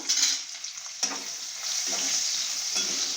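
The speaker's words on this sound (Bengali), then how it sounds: "এভাবে আমি পেঁয়াজটাকে নেড়ে চেড়ে নেব।" Chopped onion fries in a pan with a close, steady sizzle, while a spatula stirs it in a few distinct scraping strokes; no talking.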